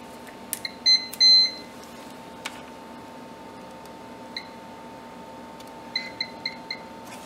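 Short electronic beeps from an old multimeter testing continuity across a solder bridge on an Amiga 500 RAM upgrade board: two longer tones near the start, then a few isolated blips and a quick run of short beeps, close and clear over quiet room hiss.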